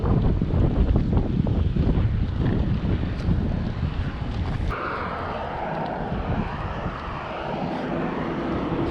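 Strong wind buffets steadily during a bicycle ride, mixed with a low rumbling drone and rushing noise that shifts midway, continuous and close.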